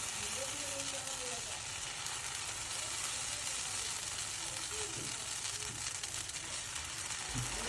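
Dosa batter poured onto a hot pan sizzles in a constant, even hiss while someone talks over it.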